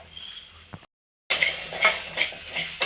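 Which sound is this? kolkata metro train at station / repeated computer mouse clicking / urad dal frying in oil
urad dal frying in oil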